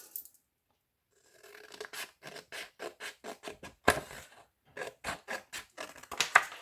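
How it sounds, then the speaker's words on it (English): Scissors snip through paper in a steady series of close, crisp cuts after a brief silence, each cut a short rasping crunch. "Scissors."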